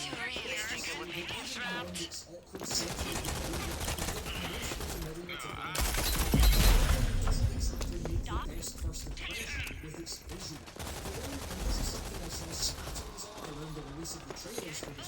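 Rapid automatic SMG fire in the Gears 5 shooter game, loud dense bursts with music and game effects, a heavier blast near the middle, under a speaking voice.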